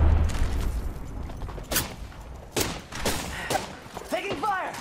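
Gunfire in the Apex Legends battle royale game, several sharp bursts of shots and booming impacts spread through a busy, loud mix of game sounds.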